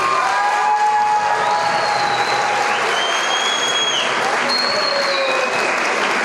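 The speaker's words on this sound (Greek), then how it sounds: "Ένα χειροκρότημα για το μικρό χορευτικό." An audience at a Pontic Greek association dance evening applauds a children's dance group, with loud sustained clapping and some cheering, plus faint high whistles and voices through the crowd.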